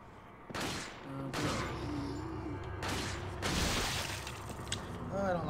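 Gunfire in Resident Evil 4: several loud broadband shots and bursts fire in separate spells over continuous game noise, with mechanical clatter between them and a voice talking.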